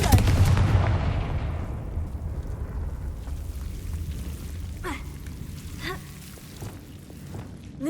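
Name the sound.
Confringo fire-blast spell in the video game Hogwarts Legacy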